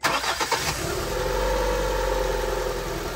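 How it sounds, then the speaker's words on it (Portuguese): A Honda Civic 1.7 with a misfire in the fourth cylinder cranks briefly and fires up, then settles into a steady, close idle that runs alone without talk. "Agora eu vou dar partida no carro de novo."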